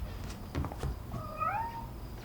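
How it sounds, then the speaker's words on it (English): A house cat gives a single drawn-out meow, faint and somewhat distant, after a few soft knocks and shuffling indoors. "Didn't know you guys got a cat."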